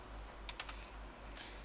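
A few quick, faint clicks close by, a mouse clicking through setup on a PC while configuring a TP-Link TL-WR740N router, set against a steady low electrical hum.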